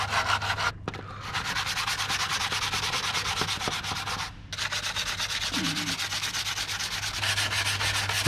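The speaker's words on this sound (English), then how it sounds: "Next thing I'm going to do is get my sanding block." A sanding block scrubs paint off a composite glider fuselage in steady, continuous back-and-forth strokes, close and fairly loud, with two brief pauses between passes.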